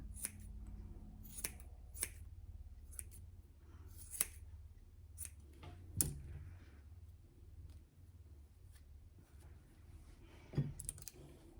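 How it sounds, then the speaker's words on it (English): Soft, sparse snips of blunt-tipped curved scissors trimming a Havanese dog's hair around the paw, at irregular intervals, close and quiet over a low background hum. "This one I'm using is a curved scissors with a blunt tip."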